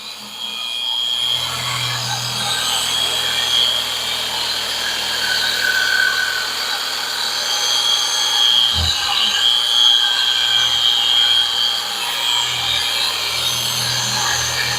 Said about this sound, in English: It ain't going to hurt it, buffing it more.